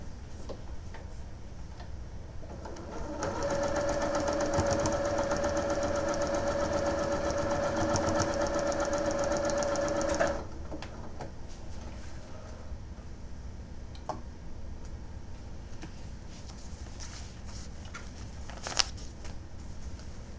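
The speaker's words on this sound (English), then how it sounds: "we're going to do one last sewing" A sewing machine stitches a paper-pieced quilt block in a steady, rapid ticking run of about seven seconds, close and clear, followed by quiet room sounds and a faint click.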